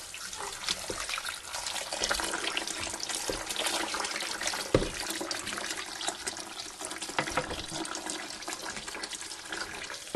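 Water pours and splashes steadily into a stockpot holding chicken and bones for homemade stock, a continuous close-up rushing trickle with no talk over it.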